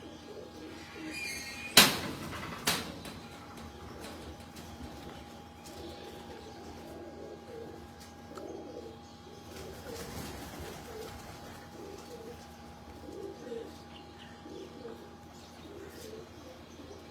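Cross-bred pigeons cooing on a Lahore rooftop loft, soft repeated low coos running throughout at a moderate distance, with a sharp clack early on and a steady faint hum underneath.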